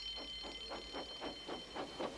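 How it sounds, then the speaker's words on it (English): An alarm in a Thomas the Tank Engine story, a faint, regular pulsing tone repeating about every quarter second against a low background hum. "Soon came the alarm."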